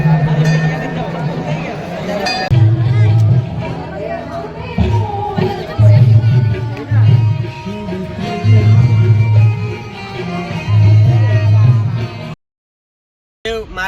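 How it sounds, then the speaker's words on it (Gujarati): A festival crowd fills Galteshwar Mahadev temple in Surat on Mahashivratri, a dense, loud hubbub of chatter with tonal chanting or music and nearby talk, ending in a sudden cut to silence. "ઘણી બધી ભીડ છે. મહાશિવરાત્રિનો પર્વ છે એટલે ઘણી બધી ભીડ છે."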